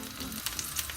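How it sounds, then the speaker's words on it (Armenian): Eggplant and onion frying in a pan in a home kitchen give a close, steady sizzle with crackling bursts throughout. There is no talking. "Առաջնահերթ կտապակենք սմբուկները, իսկ այս մեկի մեջ առաջնահերթ կտապակենք սոխը։"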